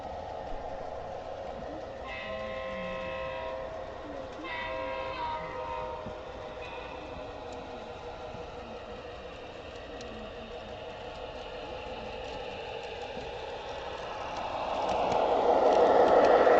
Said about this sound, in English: I love watching the locomotives come up the straight section. And then we see CN going around.